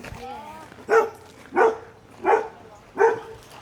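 A dog at a rental house in the Philippines barks four times in an even rhythm, about one bark every two thirds of a second, fairly close, over a low background hum.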